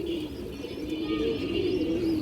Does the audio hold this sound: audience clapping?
no